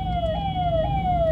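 A police car siren wails in a jammed street in Indirapuram, Ghaziabad, its tone sliding down and stepping back up in a repeating cycle over a low, steady rumble of traffic.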